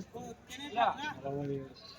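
Sheep bleat at a livestock market selling rams and sheep, a single wavering nasal bleat close by, mixed with faint background chatter.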